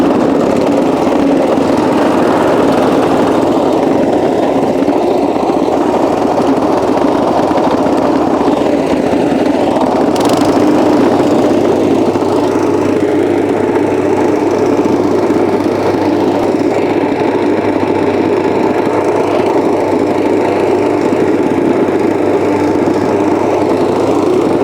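A plate compactor runs steadily over large format pavers, consolidating polymeric sand into the joints, its loud engine drone and vibrating rattle continuous and close throughout without a break.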